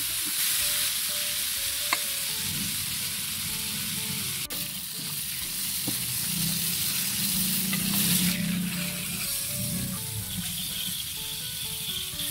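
Chicken feet and heads deep-frying in hot oil, a steady dense sizzle and crackle running the whole time with occasional louder pops, close up and with no voices.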